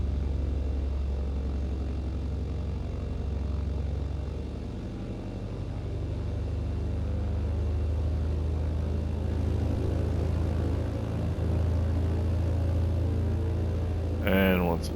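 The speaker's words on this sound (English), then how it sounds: "So let's let the airplane get moving here real quick." Low, steady engine drone of a BN2 Islander twin-prop aircraft taxiing in MSFS2020, a continuous rumble throughout with a brief brighter burst near the end.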